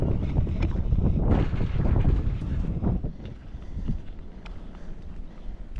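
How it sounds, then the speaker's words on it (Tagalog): Strong gusty wind buffets an outdoor microphone in loud, rumbling low blasts that swell and ease, loudest early on and then settling into a lighter, unsteady rush. "Lakas ng hangin."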